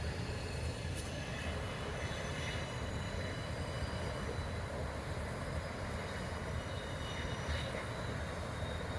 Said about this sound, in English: Figured why let a good train cross and go to waste